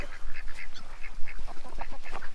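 A duck quacks repeatedly in short, loud, close bursts, with other fowl honking nearby in a farmyard setting.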